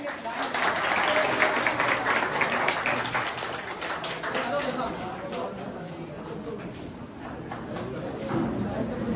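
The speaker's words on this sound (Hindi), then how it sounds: "जोरदार ताली बजाओ यार" Clapping at a retirement gathering for a departing chief, a broad patter of many hands that is loudest at the start, eases in the middle and swells again near the end, with voices talking over it.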